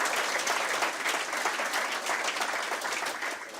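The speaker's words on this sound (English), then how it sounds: "I think a round of applause for all the collaborators." Audience applause for project collaborators at an annual lecture on the Kingston Harbour cleanup, a steady dense wash of clapping from a crowd that holds for several seconds and tapers slightly at the end.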